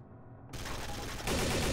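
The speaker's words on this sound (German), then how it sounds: "Wer hat auf mich geschossen?" Gunfire in the video game Trouble in Terrorist Town, a short run of rapid shots that starts abruptly after near-silence and grows louder and denser toward the end, heard alone.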